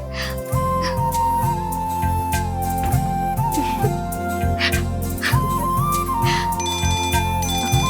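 A phone ringtone plays during a call in a Tamil TV drama, a loud repeating melodic tune with a pulsing low beat, ringing steadily and prominently from start to finish.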